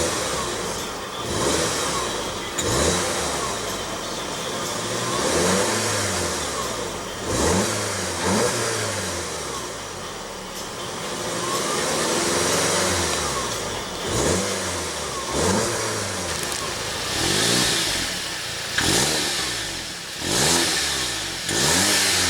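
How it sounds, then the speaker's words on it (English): Turbocharged 2.0-litre four-cylinder of a 2015 Volkswagen Golf GTI revved repeatedly, roughly a dozen sharp throttle blips rising and falling over a steady idle, loud and close with no talking. "let's go ahead and rev up this bad boy and see what kind of soundtrack she makes"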